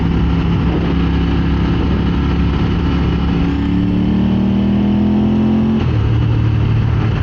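Ducati 900SS motorcycle engine pulling hard through the gears at around 4,000 RPM, a loud close continuous exhaust drone with rising pitch and a clear gear change near the end, no talk.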